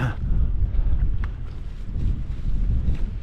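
Steady wind gusting over an open lakeside wild camp in the Lake District, a loud continuous low rumble buffeting the microphone with no one talking.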